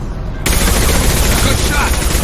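Rapid gunfire from the video game Mass Effect 2 erupts after a brief quieter lead-in, a loud, dense burst of shots that stays close until the end.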